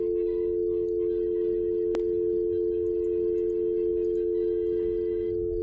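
A steady electronic telephone tone from the video game Fears To Fathom, one continuous pure hum that runs unbroken, with a single sharp click near the start and faint background noise beneath it.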